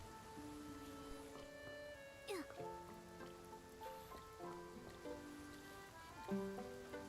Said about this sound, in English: As it's starting to rain